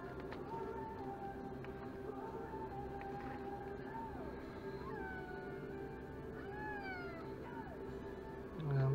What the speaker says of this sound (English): Cat's whinging, she wants to come up, but keep her away for now.